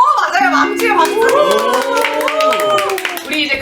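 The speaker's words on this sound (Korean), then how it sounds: "망치에 박수!" Children in a church Sunday-school class clap in quick rhythmic bursts, close and loud, while young voices chant and sing along over the clapping.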